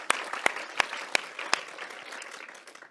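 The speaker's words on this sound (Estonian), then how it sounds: "Teeme aplausi ennem." Applause at a science conference: a few loud, sharp separate claps stand out over a thin background of scattered hand claps that slowly tails off.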